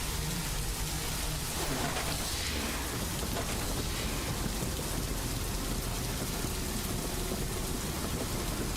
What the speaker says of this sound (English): Intense hailstorm is in progress. It's damaging my armor and our structures.